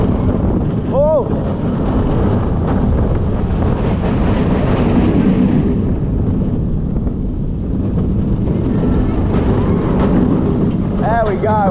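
Steady, loud rushing wind buffeting the microphone while riding the Cheetah Hunt roller coaster at Busch Gardens Tampa Bay, continuous throughout, with brief excited vocal whoops from riders near the start and end.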